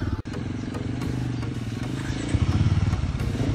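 A Himi 450 trail motorcycle engine is held under steady throttle on a trail course, a loud, close, continuous throbbing drone that rises slightly toward the end, with clattering and scraping underneath.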